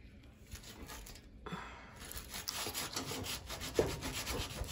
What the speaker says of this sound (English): So I'm going to get this glob of detergent and just scrub